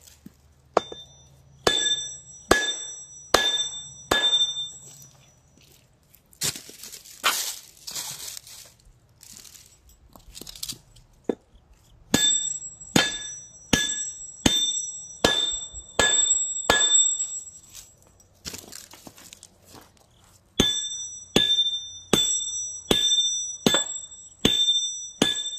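A hammer strikes metal railroad hardware in steady rhythmic runs of sharp ringing pings, each blow leaving a bright sustained tone, broken by a stretch of scraping and shuffling before the strikes resume.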